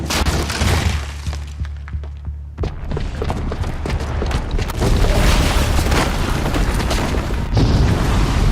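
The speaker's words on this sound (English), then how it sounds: "the booby trap on the bomb downstairs is gonna get set off" A bomb blast in Horizon Zero Dawn: a heavy boom at about 2.7 seconds, followed by crashing, shattering debris and dense rumbling that stays loud to the end, with no talk.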